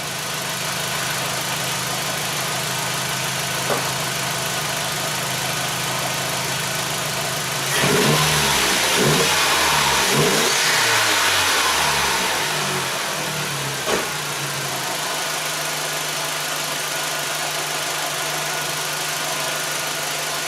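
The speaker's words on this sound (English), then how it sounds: "So let's do a wide open throttle." 2001 Audi Quattro engine, with a fault flagged by P1136 and P300 codes, idling steadily, then revving hard at wide open throttle through rising and falling sweeps before settling back to idle, loud and close with no talking.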